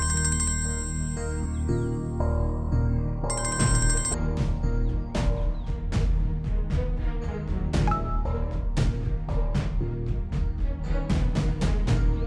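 A telephone rings with a jingly ringtone melody, repeating steadily for several seconds, loud and close with no talking.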